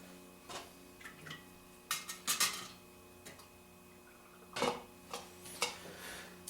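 A carburetor float bowl is fitted back onto a 1975 Suzuki TC 185 carb: a few sharp, close metallic clicks and taps come in uneven bursts against a quiet background.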